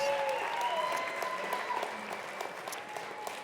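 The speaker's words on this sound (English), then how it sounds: "Let's give you guys a round of applause." Audience applause at an Alpenglow Sports winter event with climber Dave Nettle, a moderate crowd clapping steadily and slowly fading, with faint tonal whistles or cheers drifting over the claps.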